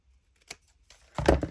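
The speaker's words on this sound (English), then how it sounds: "going to use my bigger scissors. For some reason it's easier to cut straight." A quick snip of large scissors, then a louder crunchy cut through paper a moment later, close by and otherwise quiet.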